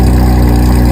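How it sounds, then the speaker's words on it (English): Straight-piped Porsche 911 GT3 RS engine, loud and close, with a dense continuous roar held steady through the moment, no voices over it. "this particular one is straight piped, so it sounds like this"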